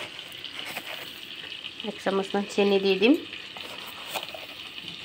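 Chicken fries in a spice paste for dahi chicken with a soft, low sizzle that continues under a voice, which rises louder in the middle of the clip.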